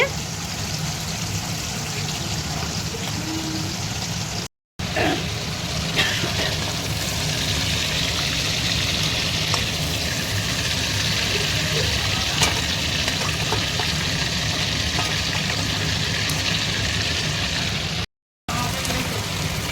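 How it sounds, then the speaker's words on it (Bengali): Fish rubbed with salt and turmeric frying in hot oil, a steady close sizzle and crackle running throughout with light spatter, brief gaps, and no one talking. "মাছের মধ্যে নুন হলুদ মাখিয়ে মাছ ভাজছে"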